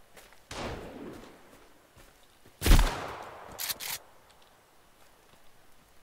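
A few scattered gunshots crack out in Sons of the Forest: a muffled shot early on, a sharp louder report midway, then a quick pair of bangs, over a quiet outdoor background.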